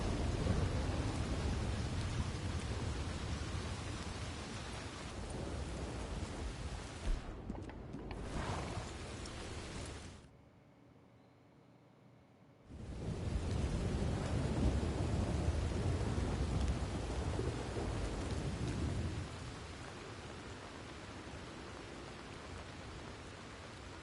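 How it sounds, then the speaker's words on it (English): A thunderstorm rolls through a Red Dead Redemption 2 game world. Steady rain hiss carries low rumbling thunder, then drops to near silence for a couple of seconds before the downpour returns just as dense. "Dang, it is stormy out here."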